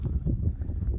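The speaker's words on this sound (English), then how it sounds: "The wind's kind of to our faces now" Desert wind at Kofa National Wildlife Refuge buffets the microphone in a constant low rumble with no break for the full second.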